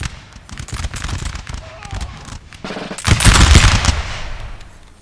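Dense musket volleys crackle in a forest battle in the video game Napoleon: Total War, the 1799 Battle of Trebbia between French and Russian troops, loud and continuous with a heavier burst of overlapping fire midway.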